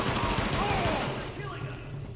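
Pistol gunfire in the video game Tom Clancy's The Division, a dense stretch of rapid overlapping shots and echoing blasts, loud and close for about two seconds.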